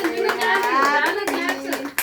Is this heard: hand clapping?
yes